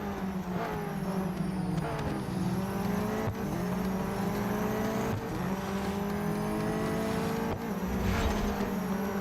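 The F1 safety car in the racing game Real Racing 3 roars continuously at high revs, with the engine note dipping and climbing through gear shifts and tires squealing through corners, loud and steady with no talk.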